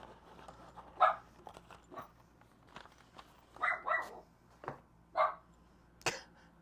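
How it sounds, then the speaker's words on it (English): A dog barks in short, separate bursts, around six of them spread over several seconds, moderately loud and close against a quiet room with no talking. "Of course the dog's barking."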